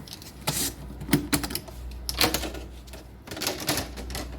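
Plastic cable duct covers being pried open on an electrical control panel, a series of sharp snapping clicks and clatters in irregular bursts, close and moderately loud.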